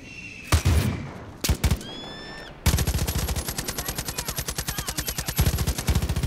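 Gunfire in Far Cry 5: a few loud separate shots, then a steady rapid automatic burst that continues rhythmically to the end, close and loud without talk.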